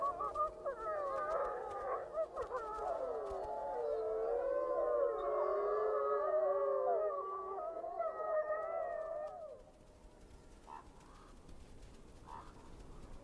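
The Slough Creek wolf pack in Yellowstone's Lamar Valley howls together in a long, loud chorus of overlapping wavering cries, fading out after about nine seconds into quiet ambience.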